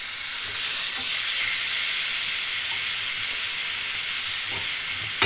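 Pork spareribs searing on a hot grill plate give off a steady, bright hiss and sizzle that holds at an even level throughout, with no voices.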